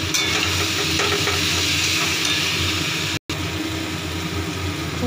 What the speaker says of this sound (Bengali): এবারে পটল আলু দিচ্ছি। এটা দিয়েও আমি অনেকক্ষণ কষাবো।